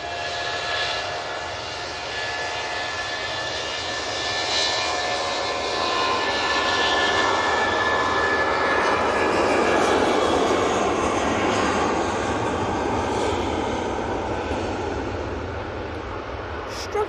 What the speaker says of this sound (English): I'm going to watch this Logan Air prop come in first.